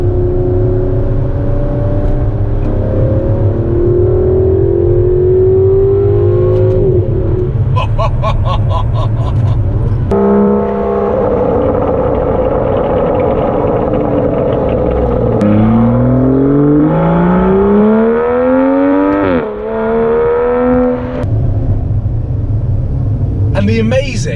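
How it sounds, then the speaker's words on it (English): An Aston Martin DB11 engine idles with a loud, deep, steady rumble, then revs up and down in rising and falling sweeps before settling back to a low drone. "the amazing new sort of rumble that this car gives on the, when you're coming down the revs"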